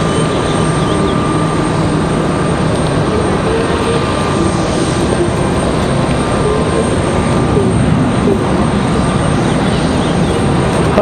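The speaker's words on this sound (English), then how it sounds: "Here's our CRJ from JFK." A CRJ regional jet arriving at Raleigh-Durham International Airport, its engines a steady, loud broadband roar with a faint whine that holds level throughout, close by and alone.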